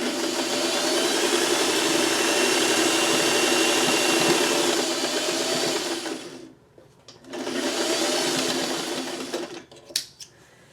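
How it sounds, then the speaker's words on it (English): A sewing machine stitching fabric strips at regular speed, a loud, steady close-up whir that runs for several seconds, stops briefly, starts again, then ends with a few clicks of handling. "I'm just sewing right there."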